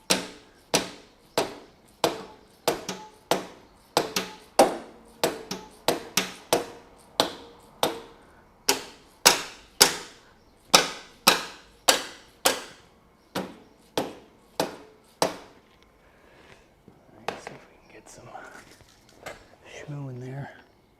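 Hammer blows on an air-cooled 1500cc VW engine, a steady run of about twenty-five sharp metallic taps at close range, roughly one per half second, then the strikes stop and faint shuffling and low voices follow.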